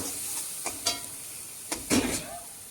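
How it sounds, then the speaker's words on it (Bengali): A green chili and turmeric masala fries in a pan for a fish curry with Malabar spinach, giving a soft, close sizzle with a few distinct stirring scrapes and clinks and no voices. "খুব ভালো করে এটা আমি ভেজে নিলাম"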